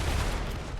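Massed musket volley fire crackles in a Napoleonic battle video game, a brief, dense, moderately loud burst of overlapping shots.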